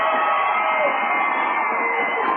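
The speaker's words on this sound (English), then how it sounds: "Crowd is reacting to their scoreboard in right field." Crowd at a minor-league baseball game between the Inland Empire 66ers and Rancho Cucamonga Quakes cheering at a scoreboard prompt in right field, a steady, loud wash of voices without pauses.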